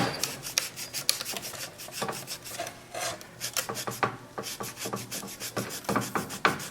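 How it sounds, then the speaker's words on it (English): A Scotch-Brite pad scrubs the magnets of a 1953 reel mower in quick, rhythmic back-and-forth rasping strokes, close up and fairly quiet, with no talking. "Let me get a Scotch-Brite. Clean them up a little bit."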